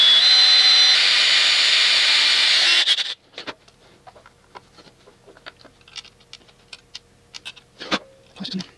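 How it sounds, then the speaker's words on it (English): Power drill boring holes in a plastic grass-flap chute blocker on a Wright 36i stander mower: a loud steady whine for about three seconds, then stops, followed by scattered clicks and handling knocks. "So I'm going to go ahead and drill the rest of these."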